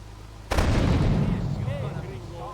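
A sudden loud blast in Grand Theft Auto III The Definitive Edition, a sharp boom followed by a long rumbling roar that slowly fades, alone and up close.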